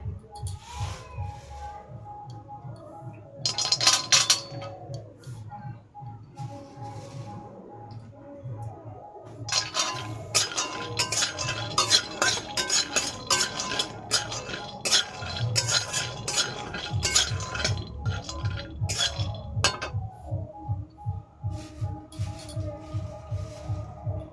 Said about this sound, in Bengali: আমরা এখন চলে এসেছি বাদাম ভাজতে